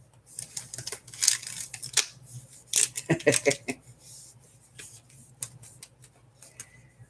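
Scissors cut a piece off craft material in close, irregular snips and crunches, some sharp clicks of the blades in quick clusters and others spaced apart, with no talking.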